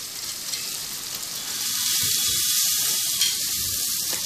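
Garlic paste, ground spices and salt sizzle in oil with a little water in a pan for an egg curry, a steady close frying hiss that grows louder partway through, with faint stirring scrapes beneath.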